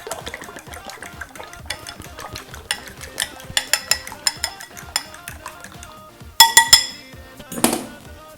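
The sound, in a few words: beating four eggs in a bowl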